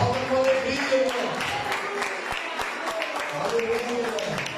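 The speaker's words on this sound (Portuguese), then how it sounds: "Se você pode aplaudir ao Senhor, em nome de Jesus," Church congregation applauding during a Portuguese-language sermon, steady dense clapping sustained throughout with a voice speaking over it.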